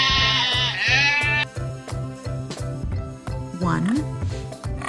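Sheep bleat in a long wavering cry at the start and a shorter one near the end, loud and close over a thumping children's music beat.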